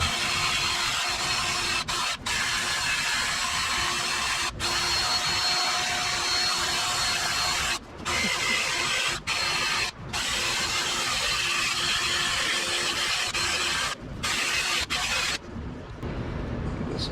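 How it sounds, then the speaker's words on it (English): A wire brush wheel grinds old RTV gasket sealant off the lower oil pan of a 2008 Ford Explorer, a loud, steady abrasive whir running almost continuously, broken only by a few short pauses. "wire brush wheel"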